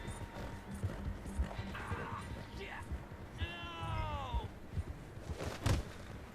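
Rhythmic clip-clop of horse hooves in Red Dead Redemption 2, with a horse whinny partway through and a person talking over it.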